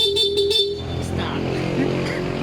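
A Honda Click V3 scooter horn honks in a quick series of short toots, then gives way to a steady engine idle and road noise.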